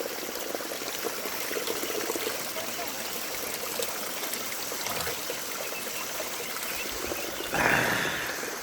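Water from a village tap in the Nepal Himalayas runs in a steady, close stream, with a brief louder splash near the end as something is rinsed under it.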